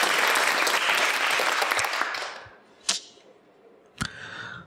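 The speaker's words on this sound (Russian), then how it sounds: "Давайте, под аплодисменты." Studio audience applauding loudly for a few seconds, then fading out, followed by two sharp single claps or snaps in a quiet room.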